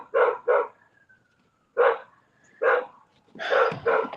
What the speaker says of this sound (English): They hear the dogs barking.